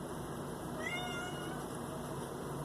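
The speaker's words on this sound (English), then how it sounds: "There's my Gemini kitty." A cat gives a single short meow with a rising then falling pitch, heard once amid a steady hiss of background noise.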